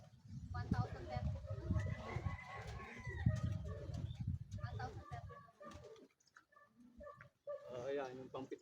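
Racing pigeons coo at a derby loft, their soft repeated calls mixed under ongoing talk from people nearby.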